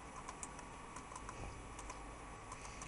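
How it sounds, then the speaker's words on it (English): Light, steady tapping on a computer keyboard while entering text for an LCD module demonstration, soft and close with irregular keystrokes throughout and no talking. "just type it in"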